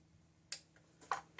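A torque wrench gives a few faint, sharp clicks while tightening valve cover bolts on a 2013 Mini with the N16 engine, with one isolated click followed by a quick double click in a quiet room.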